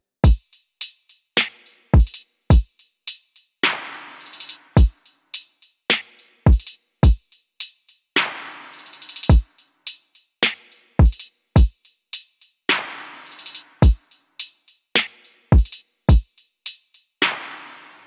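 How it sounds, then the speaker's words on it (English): Hip-hop drum loop built from two kicks, two snares, a snap, a clap and hi-hats, playing a steady laid-back groove of punchy low hits and crisp bright snaps and claps with no voices. "They're made up from 2 kicks, 2 snares, a snap, a clap, and some hats."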